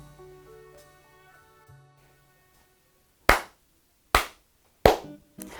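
Three sharp, loud hand claps ring out in an otherwise quiet room during a tarot reading, spaced under a second apart, with a fourth starting at the end after a soft tonal lead-in.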